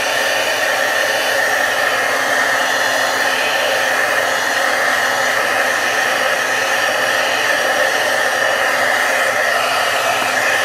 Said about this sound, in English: I'm going to use the heat tool to dry this.